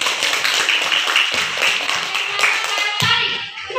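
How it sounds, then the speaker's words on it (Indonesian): Schoolchildren in an Indonesian classroom burst into loud, rapid applause, a dense flurry of hand claps that continues for several seconds and thins out near the end. "Bagus, tepuk tangan."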